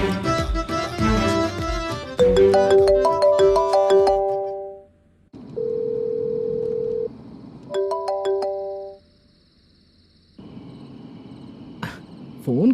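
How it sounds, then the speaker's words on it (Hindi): A melodic electronic phone ringback tone plays in repeated bursts on an unanswered call, separated by short silences, loud and close with no talk over it. "फोन क्यों नहीं उठा रहा है?"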